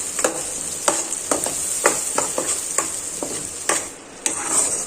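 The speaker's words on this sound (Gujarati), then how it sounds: "ધીમી આંચ ઉપર આપણે આ પેસ્ટને પકાવી લેશું" Spice paste sizzles steadily on a low gas flame, a constant hiss broken by repeated scraping strokes of a spoon stirring it in the pan, close and moderately loud with no talking.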